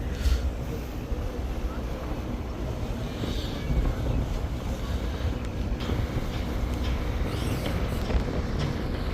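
Strong wind buffets the microphone aboard a passenger launch on a river trip, a continuous blustery rumble mixed with low vessel noise, steady and close for the whole stretch.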